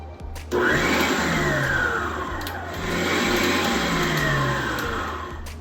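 An electric mixer creams butter for a Louisiana crunch pound cake, starting with a sudden whir and then running as a steady, loud motor drone with a slight rise midway.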